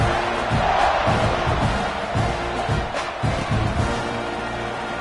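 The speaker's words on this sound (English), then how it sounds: "this crowd is feeling themselves after that last drive" A stadium crowd in a college football video game keeps up a continuous loud roar with swelling cheers and shouts during a kickoff, dense and steady throughout.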